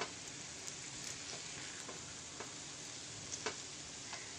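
A mashed potato vegetable filling cooks in a pan, giving a soft, steady sizzle with occasional faint ticks and stirring clicks, no voices.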